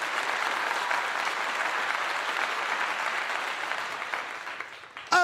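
Applause sound effect played on a live stream, a steady wash of clapping that thins toward the end before a brief voice cuts in.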